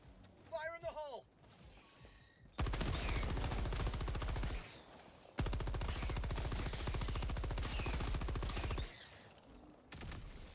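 Video game machine guns rattle in long rapid bursts, loud and close, one extended stream broken by a brief pause, with voices talking before and after the firing.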